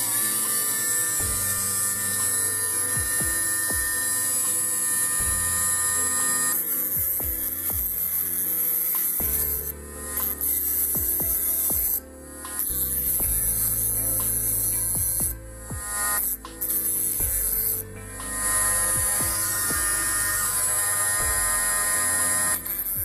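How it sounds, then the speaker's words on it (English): A Dremel rotary tool whirs loudly and continuously with a steady high-pitched motor whine and hum, its pitch shifting as it bites into the work, with brief dips when the load changes. "And it's on with the Dremel again."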